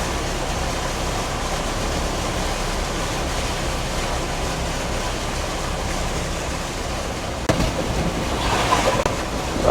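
A bus ploughing through flood water on a flooded road, a continuous rushing wash of water and engine rumble that swells slightly near the end.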